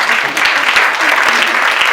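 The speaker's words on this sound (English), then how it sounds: "clap hands for her" A crowd claps steadily, dense and loud throughout, with a faint voice or two mixed into the applause.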